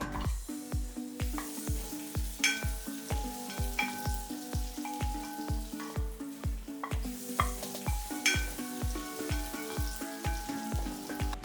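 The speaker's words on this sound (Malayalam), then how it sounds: "ഇഞ്ചിയും വെളുത്തുള്ളിയും പച്ചമുളകും ഒരുവിധം മൂത്ത് വരുന്നുണ്ട്." Ginger, garlic and green chilli sautéing in a pan with onion added, stirred in a steady rhythm of repeated spatula scrapes over a continuous close sizzle, with no voices.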